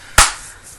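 A single gunshot sound effect from a Godzilla and King Kong audiobook mix gives one loud, sharp crack with a quick decaying tail, alone without talk.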